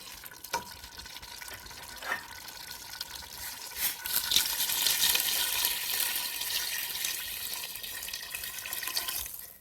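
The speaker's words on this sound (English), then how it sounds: "then we're gonna add warm water" Warm water poured into a pan of lasagna sauce as it cooks, a soft continuous splashing pour that swells and carries on to the end, with faint sizzling beneath.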